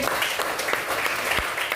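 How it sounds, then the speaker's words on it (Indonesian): Students in a classroom clap together for a presenting group, a brief burst of dense, steady applause filling the room. "Oke, tepuk tangan buat kelompok melati."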